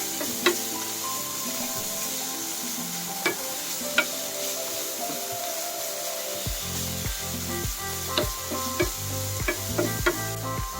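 Shredded chicken breast sautés with garlic and onion in a hot pan, with a continuous sizzle and wooden stirring scrapes that fall into a regular rhythmic pattern in the second half.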